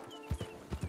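A horse trotting in Red Dead Redemption 2, with a few quick, muffled hoof clops close by in an uneven rhythm, lasting under a second.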